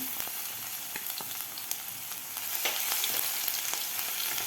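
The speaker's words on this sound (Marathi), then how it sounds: "लसूण आपल्याला थोडासा परतून घ्यायचा आहे जास्त लाल पण नाही करायचा" Crushed garlic fries with cumin seeds in oil, a close, continuous hiss dotted with sharp little pops and spits that grows slightly louder toward the end.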